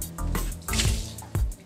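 Water poured out of the canister of a portable HiFlo RO reverse osmosis filter, a few gurgling splashes and drips in short bursts, close and alone.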